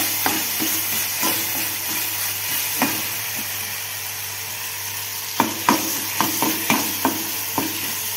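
Masala sautéing in oil in a pan with potatoes about to go in, a steady soft sizzle under scattered sharp scrapes and taps of a spoon stirring, closer and more frequent toward the end.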